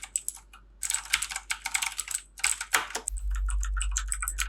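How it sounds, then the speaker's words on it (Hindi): Rapid bursts of keystrokes on a budget mechanical keyboard clack loudly and up close in an uneven rhythm, with a low hum rising near the end. "कीज का जो साउंड है वो भी सुनने में काफी अच्छा"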